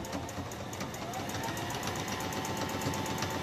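A sewing machine back stitching fabric with a quarter-inch seam, running as a continuous, even, fairly quiet motor whir that does not break.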